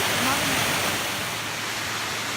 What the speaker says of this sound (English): What a beautiful sight, water rushing over there.